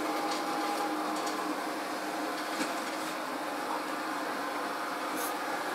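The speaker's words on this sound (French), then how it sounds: "Je suis désolée pour le bruit de l'aspi" Household vacuum cleaner droning steadily in the background of an indoor room, a constant faint whooshing hum with no talk over it.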